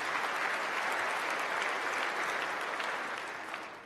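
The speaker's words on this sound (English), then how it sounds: "Now you can applaud." An audience at a county address applauds steadily, dense clapping filling the room at an even, loud level before easing slightly toward the end.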